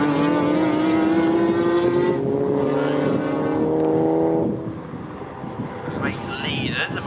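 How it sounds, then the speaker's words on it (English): Race cars lapping Snetterton circuit during a Britcar Trophy Championship race, a loud engine drone that rises and falls as cars pass, with wind buffeting and someone talking over it. "Race leaders are making their way around for another lap."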